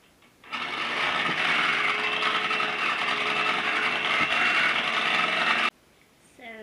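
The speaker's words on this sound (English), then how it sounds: "we're going to start mixing our egg whites on a high level until we get white peaks" An electric mixer whips egg whites at high speed into white peaks, a steady loud motor whir running about five seconds with a faint hum before and after.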